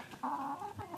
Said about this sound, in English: You've got your chicken.